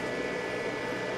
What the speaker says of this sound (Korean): 지금 이 3단 최대로 했을 때 그 소리는